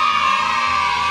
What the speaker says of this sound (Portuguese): Ariana Barbosa, palmas pra ela!